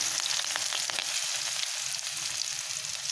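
Ginger, green chilli and garlic fry in hot oil with a bright, steady close-up hiss and a few light pops, continuous and without any talking.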